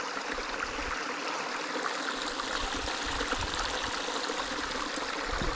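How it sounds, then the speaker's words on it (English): Water from a stream runs down a hillside in a steady, close rushing babble at Gunnerside Gill, continuous and unbroken with no voices over it. "streams coming down the hill"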